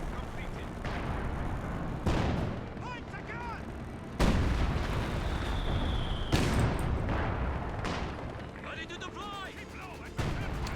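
Mortar fire in a World War II strategy game battle, with deep booming blasts and crackling gunfire rolling in a continuous barrage, several heavy impacts standing out, and a voice commentating over it.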